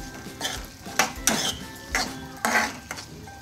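A spoon stirs a kanda poha mixture of onion and peas in a pan, giving several distinct scraping clinks of metal against the pan in an uneven rhythm, close and fairly loud, with a faint sizzle beneath.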